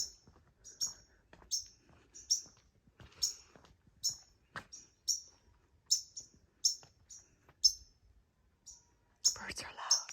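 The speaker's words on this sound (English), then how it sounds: "Birds are loud." Birds chirp in a yard in the evening, sharp high repeated calls at a quick, uneven rhythm, fairly close. A soft whisper-like rustle sits under the calls and grows near the end.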